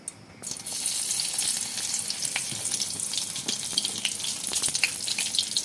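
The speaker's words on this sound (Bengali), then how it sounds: "শুকনো লঙ্কাগুলো আমি কড়াইতে দিয়ে দেবো" Dried red chillies drop into hot mustard oil in a wok, bursting into a loud crackling sizzle with scattered sharp pops that continues steadily, close up and without talk.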